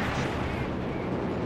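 Heavy rumbling explosions and ammunition cook-off as a Hellcat tank destroyer is destroyed in the Company of Heroes 3 video game, a dense, loud, continuous battle roar.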